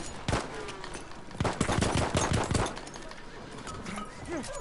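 Sniper and other gunfire in the Battlefield 1 video game, a burst of sharp cracking shots at the start and then a rapid cluster of loud reports, with quieter game ambience between them.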